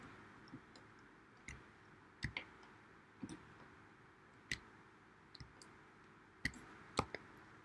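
A computer mouse clicks repeatedly at a desk during 3D modeling work in Maya 2020, faint sharp clicks scattered irregularly, some in quick pairs, over a quiet room hum.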